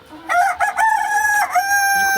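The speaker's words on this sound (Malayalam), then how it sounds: "എല്ലാവിധ കോഴികളും പൂവനും പടയും ഒക്കെ നാടനാണ്" A rooster crows once, loud and close: a long, wavering cock-a-doodle-doo with a brief cluck just before it.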